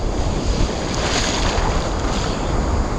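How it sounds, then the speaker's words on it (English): Shallow ocean water around a swimmer far from shore, a loud, continuous rush and slosh of surf, close to the microphone and mixed with gusty wind buffeting, with no voices. "One of my favorite things to do is swim in the ocean."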